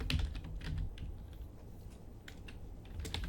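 Quick, uneven keystrokes clatter on a computer keyboard as a file name is typed, a steady run of close, crisp taps with small pauses and no talking.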